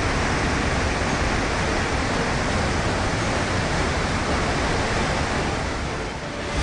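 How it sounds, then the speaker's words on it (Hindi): Floodwater rushes through a grain market in Banaskantha, Gujarat, a steady, loud, broadband roar of flowing water that holds constant throughout and eases slightly at the very end. "पानी बह रहा है।"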